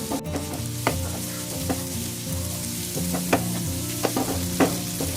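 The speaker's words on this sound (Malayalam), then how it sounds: "തക്കാളിയും സവാളയും കൂടെ ഒന്ന് നന്നായിട്ട് വഴറ്റിയെടുക്കുക" Tomato and onion sautéing in a pan for an okra fry dish, a steady close sizzle punctuated by sharp spatula scrapes and clicks as the vegetables are stirred, with a low hum beneath.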